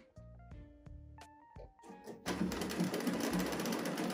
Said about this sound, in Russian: И когда вы строчите, следите за тем, чтобы край лапки совмещался со срезами.